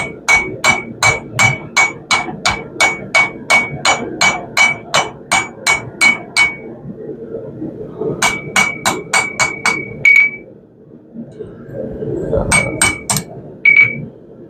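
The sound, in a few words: hammer blows forging steel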